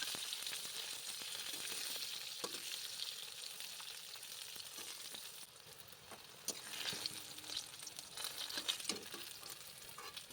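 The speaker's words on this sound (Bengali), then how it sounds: "এবার রসুন আর বেগুনগুলো আবার একটু সময় নিয়ে ভেজে নেব।" Boiled eggplant and a few garlic cloves fry in a pan, a steady loud sizzle with occasional stirring scrapes and crackles throughout, no voices.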